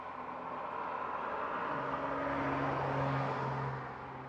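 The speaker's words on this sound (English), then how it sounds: "there's lots of cars going by" Cars passing on a road near a porch, a faint, distant whoosh of tires and engines that swells and fades as each vehicle goes by, with a low steady hum and no voices.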